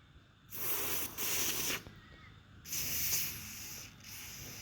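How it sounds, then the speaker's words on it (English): Lanox lubricant sprayed into a fishing reel in two hissing bursts, each about a second or more long, close and fairly loud, with quieter pauses between them. "all I do is just apply Lanox inside."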